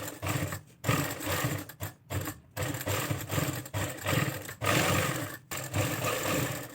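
A sewing machine stitches the side seam of a trouser in loud, rapid runs broken by short pauses, starting and stopping several times.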